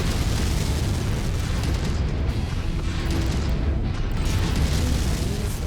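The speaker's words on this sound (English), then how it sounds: "Reaction explosion." A heavy, sustained rumbling blast from a mech reactor explosion in MechWarrior 5 fills the scene, dense and loud with a rolling low roar and crackling debris throughout.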